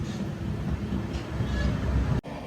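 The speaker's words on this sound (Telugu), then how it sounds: "గూడూరు రైల్వే స్టేషన్ నుంచి మన ట్రైన్ అయితే స్లోగా స్కిప్ చేసుకుంటూ వెళ్ళిపోతుంది" The Amrit Bharat Express rolls slowly through Gudur station, a low continuous rumble of carriages and rails heard from on board, close and steady, with a brief dropout near the end.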